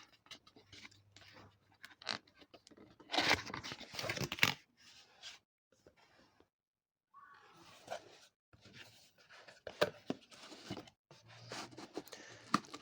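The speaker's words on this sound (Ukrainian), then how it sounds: "Отже, відкриваємо коробочку." Cardboard box of a Dahua Imou Cruiser 2 security camera being opened, with scratchy rustles, patters and a loud tearing burst of packaging handled close by, pauses of near silence, no talk.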